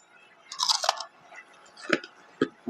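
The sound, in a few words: chewing crunchy bacon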